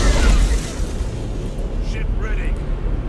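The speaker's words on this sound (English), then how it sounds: "We'll go ahead and give him some Nova Cannon shots." Nova Cannon shots in the space combat game Battlefleet Gothic: Inquisition, a heavy low boom at the start that rolls off into a rumbling decay, with faint higher tones sweeping in afterward.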